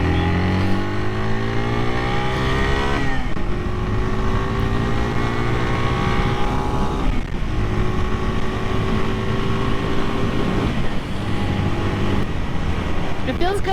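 A Suzuki TU250X single-cylinder motorcycle engine hums while riding, a continuous droning note that rises and falls as the throttle eases and picks up again, heard close over wind rush, with a rider talking at times.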